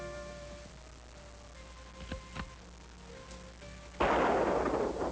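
Gunfire in an old western film: two sharp shots crack a moment apart, then a louder burst of noisy blast follows, under faint background music.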